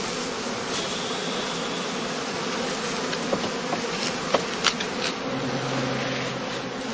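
Honey bees in a traditional woven skep basket in Germany drone in a dense, continuous buzz, close and steady throughout, with a few individual insects flitting louder past the microphone.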